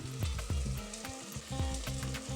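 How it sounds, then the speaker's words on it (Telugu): Tomato puree fries in oil, giving a dense, close sizzle with a quick series of stirring scrapes and pops over about two seconds, and no speech. "మనం వేసిన ప్యూరీ మొత్తం బాగా వేగిపోయింది"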